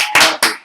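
Hands clapping in three loud, close bursts, each sharp onset trailing off before the next.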